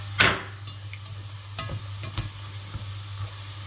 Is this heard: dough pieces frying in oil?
yes